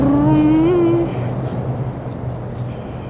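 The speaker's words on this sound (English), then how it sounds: "So you can hear the noise. The cars are driving." Cars drive past outdoors, giving a continuous broadband traffic rumble, with a brief rising whine at the start before the noise settles into a steady wash.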